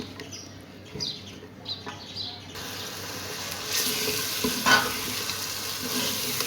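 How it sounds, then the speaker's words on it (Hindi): Tomato masala sautéing in a pan for aloo palak, a soft stirring scrape and gentle sizzle that grows steadier and a bit louder midway, with faint chirping in the background. "अब मैं इसकी भुनाई करती हूँ।"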